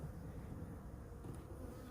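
Honey bees buzz inside a hive box in a bee yard, a steady low droning hum that holds evenly throughout, fairly close and without any talking.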